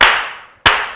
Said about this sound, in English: can we slow clap all the dads?